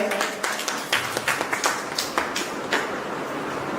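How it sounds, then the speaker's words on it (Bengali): Audience applause at a village reality quiz show, a ragged burst of hand claps repeating steadily at moderate loudness with some room echo and no talk over it. "জোরে একটা হাততালি হয়ে যাবে"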